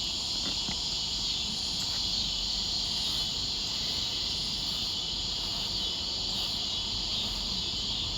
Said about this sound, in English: Is Scissor Grinders the only cicadas that's calling right now?